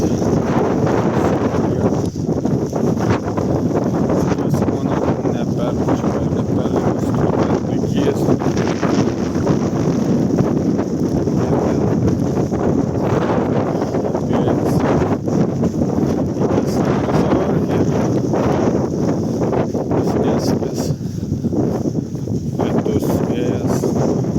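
Strong wind buffets the microphone on Helgafell mountain in extreme weather, a loud, continuous roar with gusty rustling and occasional water splashes for the whole stretch.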